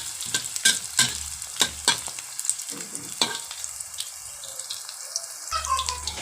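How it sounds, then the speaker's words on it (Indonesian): Spice paste and bay leaves sauté in a pan with a bright sizzle, while a utensil stirs in repeated scraping strokes, close and clear, with a louder clatter near the end. "ini kita tumis bumbunya sampai berbau harum dan matang ya"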